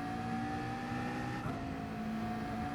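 Race car accelerating hard off the line in the video game Gran Turismo 7, a steady, moderately quiet engine drone with sustained tonal whine throughout a brief stretch and no talking.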